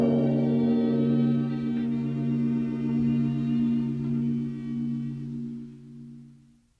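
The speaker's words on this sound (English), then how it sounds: "Now, let's hear the sounds of the bells from the 3 Beseto countries." A large temple bell strikes once and hums with a deep, sustained ring that slowly fades over several seconds, heard close and alone with no voices.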